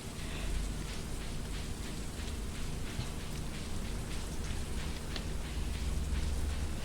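Rain in the farming video game Stardew Valley, a dense, steady hiss of falling rain with scattered drop patter, continuous and fairly loud throughout, no voices.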